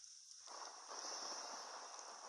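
Soft, steady patter of rain in a Roblox game begins after a quiet moment and continues as a faint, even hiss.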